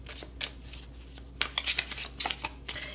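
Tarot cards being shuffled in several quick bursts of crisp riffling and flicking, close and fairly loud, with short pauses between, no talking.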